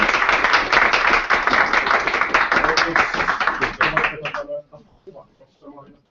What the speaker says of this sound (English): I would give applause to our debaters